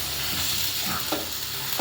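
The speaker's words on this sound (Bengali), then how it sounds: "এখন আমি রুই মাছগুলোকে উল্টিয়ে দিচ্ছি।" Rohu fish pieces frying in spice masala as they are turned over: a dense, steady sizzle close by, with a few soft scraping touches of a spatula.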